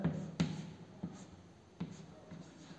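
Chalk or marker writes on a board during a chemistry class, making faint, sparse taps and strokes in a quiet room.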